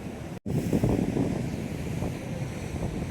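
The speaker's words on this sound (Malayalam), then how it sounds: "ഭയങ്കര തിരമാലകളാണ് കടലിൽ." Big sea waves crash at the shore in a continuous loud roar mixed with wind buffeting the microphone, briefly cutting out near the start before resuming.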